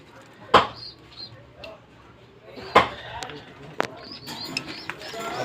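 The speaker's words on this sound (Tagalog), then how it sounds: "At ito naman ang aking mga kalapati." Pigeons coo softly in the background amid a few sharp clatters and handling noises, with some faint voices nearby.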